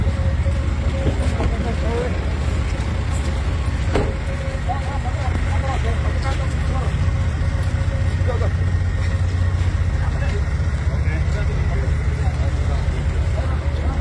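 Vehicles idle and rumble at a rescue scene where military and police ambulances gather, a steady, loud low engine drone running throughout beneath continuous talk from nearby people.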